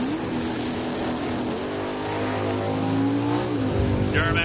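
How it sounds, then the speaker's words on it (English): A Chevy Duramax truck launching at a drag race: a loud engine roar climbs in pitch through the gears with crowd and track noise around it, and an announcer talks over it. "Duramax takes off blowing smoke"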